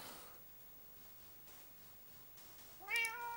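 A cat meows in the Minecraft video game, a single bright, rising in-game meow near the end after a stretch of quiet cave ambience, fairly loud and close.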